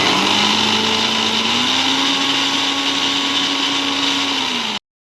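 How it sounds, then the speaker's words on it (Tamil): An electric blender grinds a homemade soap mixture with a steady, loud whirring drone whose pitch rises slightly midway and then cuts off abruptly near the end. "நல்லா பிளெண்ட் பண்ணிக்கணும்."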